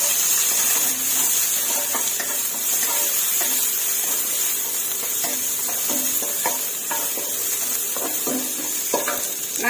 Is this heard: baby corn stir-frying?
yes